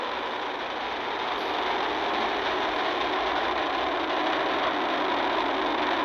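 Roaring rocket engines of a SpaceX Falcon 9 carrying Crew 7 to the International Space Station during launch, a dense, steady, loud rumble with 1.7 million pounds of thrust that holds unbroken throughout.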